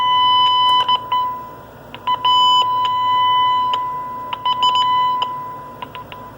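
A steady electronic test tone through an RCI 2970 CB radio switches on and off several times, broken by crackly clicks and bursts of static, fairly loud and close.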